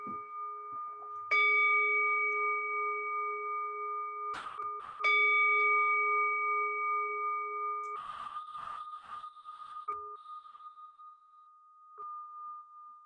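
A meditation bell is struck several times, each clear metallic tone ringing out and slowly fading. Another strike arrives near the middle, and a few softer overlapping rings follow toward the end. The bell sounds alone, close and fairly loud.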